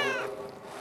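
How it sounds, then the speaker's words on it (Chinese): A single short, faint meow from a cat, a brief rising-falling cry heard alone. "拄则有听到猫在叫的声"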